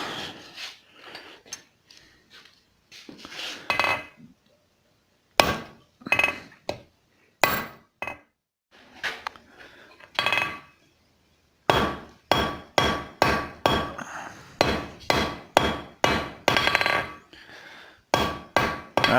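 Forging a railroad spike tomahawk on an anvil, sharp metallic hammer strikes ring out in irregular clusters with short pauses, then settle into a steady, fast rhythm of loud, close blows.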